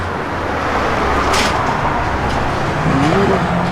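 A 1965 Chevrolet Corvette convertible with side exhaust, its engine rumbling steadily up close with a brief swell in the middle and a slight rise in pitch near the end.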